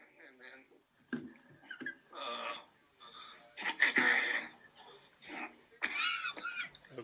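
A man coughs in a fit of harsh, repeated bursts, some close and loud, with spoken voices mixed in between the coughs.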